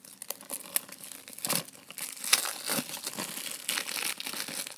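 Plastic wrap is cut and peeled off a PS4 game case for Lego Star Wars: The Force Awakens, giving close, irregular crinkling and tearing sounds in short bursts.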